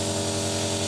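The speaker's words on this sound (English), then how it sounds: "until you're comfortable with where the paint comes out of the airbrush" Steady close airbrush hiss of paint spraying continuously through a short burst, with a faint mechanical hum beneath and no talking.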